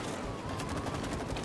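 Continuous rapid gunfire from the co-op video game It Takes Two, a dense unbroken stream of shots that stays loud and steady throughout.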